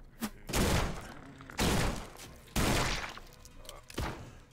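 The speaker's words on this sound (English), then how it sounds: "I keep shooting their heads. I gotta stop shooting the heads." Gunfire from the video game Forgive Me Father 2 comes in four heavy, booming bursts with short gaps between them and a faint shot at the start.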